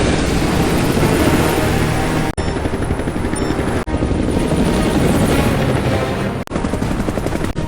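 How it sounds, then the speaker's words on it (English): Loud, steady helicopter rotor thrum from Mission: Impossible – Fallout that fills the whole stretch, with a few brief dropouts, close and continuous. "I'm in a helicopter going after Walker."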